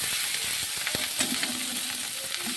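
Ginger and browned onions fry in a pan with a continuous bright sizzle, while a utensil stirs them and scrapes the pan in soft, irregular taps.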